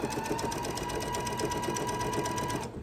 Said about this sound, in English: I'm going to sew straight across the bottom